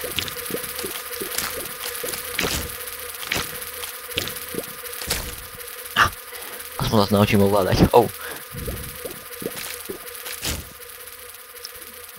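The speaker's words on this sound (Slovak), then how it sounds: "Čau včela, či čo si?" Buzzing bee and hornet enemies in The Binding of Isaac drone in short, repeated bursts, fairly loud and close, while someone speaks briefly over them.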